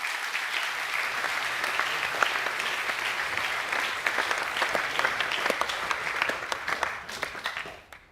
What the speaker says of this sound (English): Please give a round of applause for the Year 12 Academic A winners.